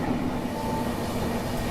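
The GT Express runs at high speed on Indian Railways and is heard from a moving train beside it as a steady, dense rumble of wheels and rushing air with a faint tonal whine.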